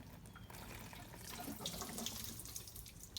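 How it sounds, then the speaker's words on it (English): Water poured into the body drain of a Porsche Boxster, a steady splashing, running stream close by with no talk, continuous throughout. "while I pour the water in"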